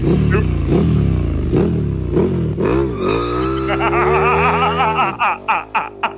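A voice imitates a motorcycle revving, a loud buzzing rise and fall repeated several times, then broken into short bursts, with laughter mixed in.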